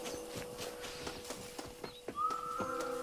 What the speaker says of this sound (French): il y a un cheval là-bas